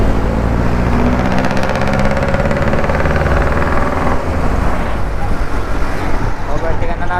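Congested road traffic with a jeepney, loud steady engine idling and rumble up close throughout, with a voice speaking over the noise.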